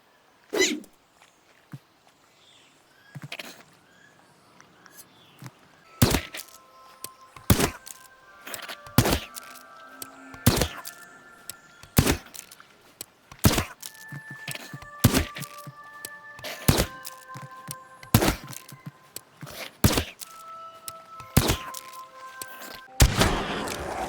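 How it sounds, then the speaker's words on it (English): Crossbow shots in the video game Grounded, a series of sharp, loud thunks spaced a few seconds apart over a quiet background with occasional short game tones, growing more frequent toward the end. "I figured why not try my new crossbow on him"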